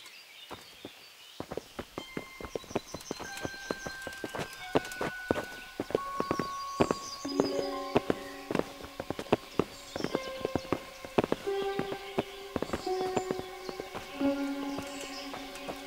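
Horse hooves clip-clop steadily on hard ground in the video game Kingdom Come while soft musical tones play along, the footfalls continuous and fairly close.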